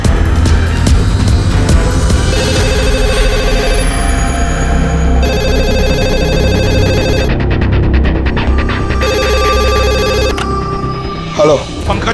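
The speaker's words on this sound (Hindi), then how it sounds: "डैम इट, फोन उठाओ।" A mobile phone rings with a repeating electronic ringtone in a TV crime drama, sustained through the clip under background music and voices.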